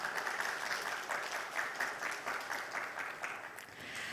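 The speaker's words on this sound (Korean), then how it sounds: "박수 부탁드리겠습니다" Audience at a trade security day ceremony applauding, a dense, continuous wash of many hands clapping at moderate volume for the whole stretch.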